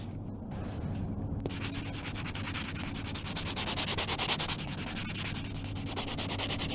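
Steady close-up hand sanding of lacquer on a Fender Jaguar guitar body with a buffing block, a continuous dense rubbing rasp with quick back-and-forth strokes and no pauses.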